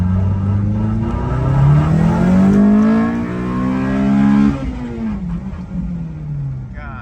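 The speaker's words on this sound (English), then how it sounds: "I'm just gonna do a little first gear pull." A K20-swapped Honda Civic engine rises and falls through a first-gear pull, loud and close, the pitch climbing then dropping with a brief dip in the middle, no talk.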